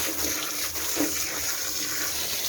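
Running water rinsing soap out of tie-dyed fabric, a steady close rushing stream with faint splashing, continuous and alone without talk.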